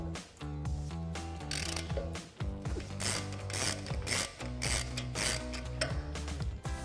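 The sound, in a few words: 18mm socket ratchet removing brake caliper bolts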